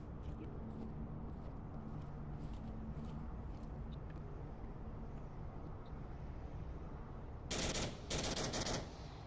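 Gunfire in the VR shooter Onward during a competitive match, distant muffled shots ticking under a steady background hum, then a loud, sharp close burst of rapid fire near the end.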